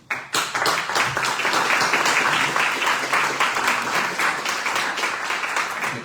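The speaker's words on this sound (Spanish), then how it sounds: "le damos un caluroso aplauso a Francisco." Warm applause from a conference audience at an inaugural lecture, a steady wash of many hands clapping that starts abruptly and holds at full strength throughout, with no talk over it.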